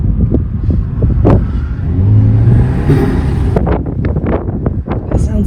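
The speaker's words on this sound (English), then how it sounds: "you have to see the turbo spool a little bit" A Lexus with a factory turbo revs, its engine rising and falling as the turbo spools with a faint whistle, close and steady, mixed with wind noise and people talking over it.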